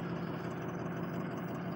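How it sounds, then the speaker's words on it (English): A warmed-up Ford 6.0 Powerstroke diesel engine idling smoothly and steadily around 690 rpm, a low constant rumble heard up close at even volume with no talk. "The idling, instead of jumping all over the place, stays very consistent right around 690."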